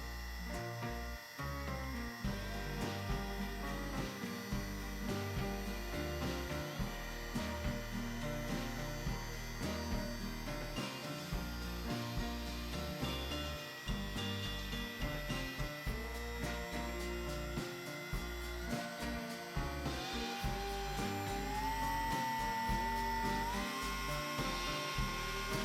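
A small Proxxon Micromot rotary tool whirs steadily at low speed, giving a constant mechanical hum with faint rattling and a slight rise in pitch near the end.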